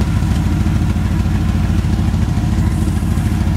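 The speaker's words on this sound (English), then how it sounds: "I just started it, and as you can hear, she's running" An engine idles loudly through a homemade exhaust pipe, a steady, rapid low thumping with a slight clattery edge, close up and continuous with no talking.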